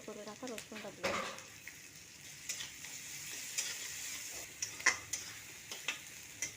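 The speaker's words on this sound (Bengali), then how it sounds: "পেঁয়াজ আর রসুনটা ভাজা হয়ে গেছে।" Chopped onion and crushed garlic sizzle and fry in a pan, a soft steady crackle with a few stirring scrapes and clicks, faint and close, with no talking.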